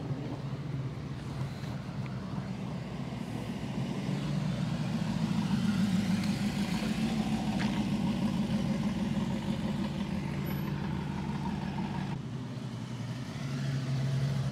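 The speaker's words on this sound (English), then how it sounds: "Here's Sally in a Mustang." Ford Mustang engine idling and rumbling at a classic car club gathering outdoors, a steady low drone that swells slightly midway, with wind buffeting the microphone.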